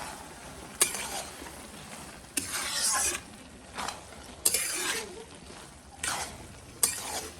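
Coriander leaves hit a hot tempering of cumin, bay leaf, radhuni and dried chilli, giving several short bursts of sizzle and stirring with faint utensil clinks, fairly quiet and without talk.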